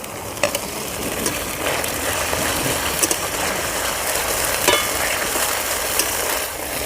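Masala sizzles and scrapes in a pan as chopped tomatoes are stirred in for a village-style matar paneer, a steady close frying hiss with scattered spoon clicks and no talking.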